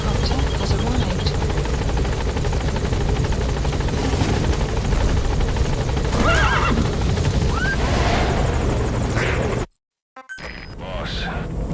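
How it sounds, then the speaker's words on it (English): Support helicopter arriving in Metal Gear Solid V: The Phantom Pain, a steady close rotor drone with whinnying horse and game effects layered over it, then a brief cut to silence before the rumble resumes. "Support helicopter has arrived."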